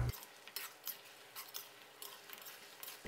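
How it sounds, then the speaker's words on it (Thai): Pork ribs with honey stir-fried over medium heat in a pan, with a soft sizzle and repeated scraping and clinking of a utensil against the pan. The sound is fairly quiet and close, with no voices. "แล้วก็ผัดคลุกเคล้าให้เข้ากันนะครับ ผัดให้น้ำแห้งงวดลงอีกสักนิดนึงนะครับ"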